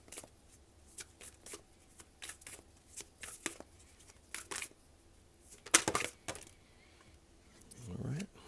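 Tarot cards shuffled by hand in quick, papery bursts, a series of short riffles and flicks with brief pauses, close and moderately loud, ending in a softer rustle.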